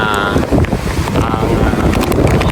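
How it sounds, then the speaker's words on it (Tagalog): Loud, blustery wind buffets the microphone by the sea, a heavy continuous roar with a faint voice beneath it. "Malakas po ang hangin dito sa tabi ng dagat."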